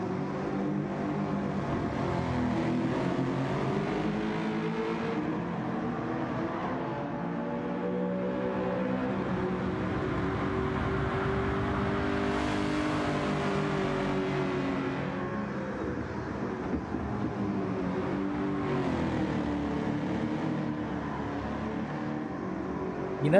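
Lexus LFA engine in Gran Turismo 7, a steady loud drone with rising and falling revs and a brief high sweep midway, running continuously without talk.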